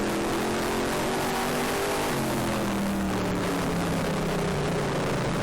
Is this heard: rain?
no